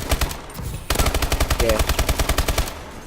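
Rapid automatic gunfire in a video game rattles out in quick, evenly spaced bursts, loud and close, with a brief pause before a longer sustained string of shots.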